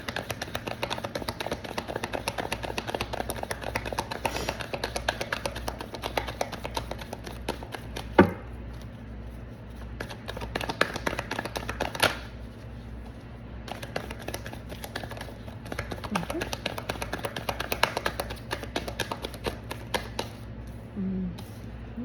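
Tarot cards are shuffled continuously, a dense run of quick papery riffles and taps close by, steady and fairly loud over a low background hum.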